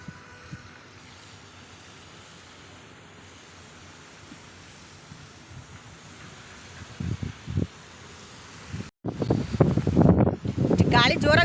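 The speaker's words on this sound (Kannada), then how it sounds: "ಗಾಳಿ ಜೋರಾಗಿ ಬೀಸ್ತಾ ಇದೆ, ಬರ್ಬೋದು ಮಳೆ." Strong wind blowing outdoors, a constant low buffeting rumble against the microphone, with voices and louder sounds breaking in toward the end.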